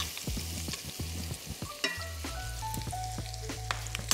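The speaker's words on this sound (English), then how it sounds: "we're gonna saute this just for about 30 seconds, no more than that, just to cook the garlic" Garlic sautés briefly in a pan for creamy Tuscan salmon, a steady bright sizzle under rapid close scrapes and taps of a spoon, with a low hum beneath.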